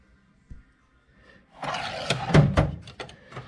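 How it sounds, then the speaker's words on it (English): Bottom drawer of a small-engine mechanic's tool box, holding chisels, rolls open with a loud, close metallic rumble and rattle, a few clanks and thuds as it stops, alone without talk. "Last drawer is all my chisels"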